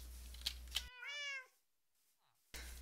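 A black-and-white tuxedo cat with a white chest, paws and tail tip gives one clear, close meow in a quiet moment, framed by brief background noise before and after.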